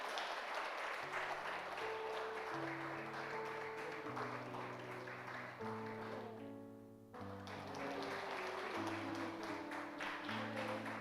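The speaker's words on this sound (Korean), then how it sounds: "박수 크게 주시길 바래요." A church congregation claps during an Easter Sunday award presentation. The soft, steady applause runs alongside sustained keyboard or organ notes, briefly dips, then resumes.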